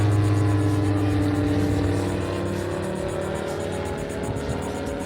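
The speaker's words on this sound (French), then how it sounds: "avant de me faire couper par un avion" A propeller aircraft passes overhead outdoors in Miami, a steady droning engine roar with a low hum that stays loud and continuous for several seconds, slowly easing off toward the end, with no talking.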